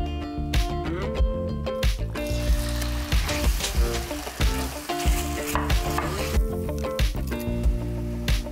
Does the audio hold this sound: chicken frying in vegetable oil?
yes